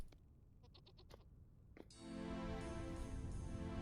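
Goats bleating in the survival video game Vintage Story, a few quick faint bleats followed by a louder, sustained wavering bleat over a low ambient background, with no talking.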